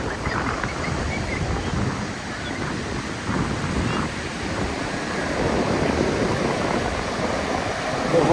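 Ocean waves surge and wash continuously onto a resort beach, a loud steady roar of surf mixed with wind buffeting the microphone and faint distant voices.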